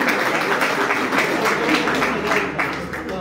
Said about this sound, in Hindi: बहुत सी तालियां जी दोनों उस्ताद के लिए।